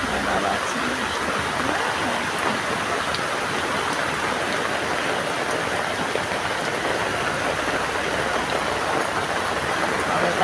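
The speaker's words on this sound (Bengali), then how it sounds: "অনেক জোরে বৃষ্টি করছে" Heavy monsoon rain pours steadily and loudly for the whole stretch, a dense broadband hiss of drops on surfaces with no breaks and no voices.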